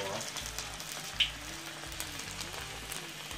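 Small pork meatballs fry in hot oil with a steady, soft sizzle and crackle, plus a brief sharp pop near the middle.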